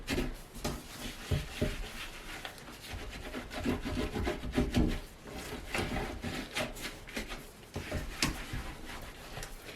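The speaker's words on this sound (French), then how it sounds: "je vais venir du coup avec ma brosse, hop, frotter" Toilet brush scrubbing the inside of a toilet bowl, working into the corners and down to the bottom, giving close, steady rasping strokes in repeated bursts with no talk over them.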